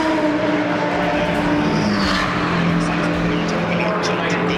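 A race car at Snetterton roars steadily down the straight under full power, a loud continuous engine drone close by, with excited talk over it.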